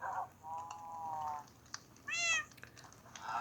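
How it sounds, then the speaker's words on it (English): Minecraft cats meow in a video game: three short, clear meows, each alone, one drawn out and one rising, with quiet pauses between and no talking. "We got a few cats around here."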